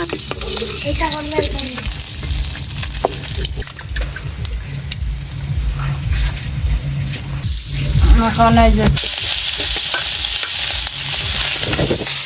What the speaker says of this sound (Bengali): আমার মাছ ভাজি হয়ে গেছে নামায় নিয়ে